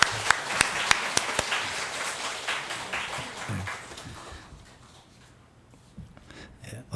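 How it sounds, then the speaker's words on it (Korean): A church congregation claps for newly registered members during a Sunday service, a scattered round of hand claps with a few sharp near claps that fades out partway, followed by quieter room sound. "자, 박수하겠습니다"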